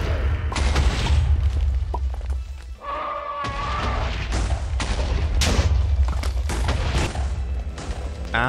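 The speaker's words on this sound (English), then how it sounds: "It's one of those, like, super explosions that he done." A boss creature's loud blast in the Minecraft StoneBlock 2 modpack, heavy booming bursts and rumbling crashes in quick succession, with a brief tonal chime partway through.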